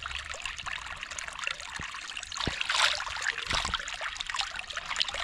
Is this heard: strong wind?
no